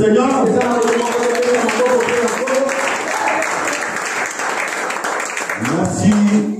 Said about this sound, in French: Il y a quelqu'un qui peut applaudir le Seigneur.